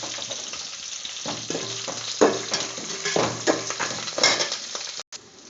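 Green chilies, dried red chilies, garlic, a large onion and curry leaves fry in oil with a constant close sizzle, punctuated by irregular scraping stirs of a spoon in the pan and a brief dropout near the end.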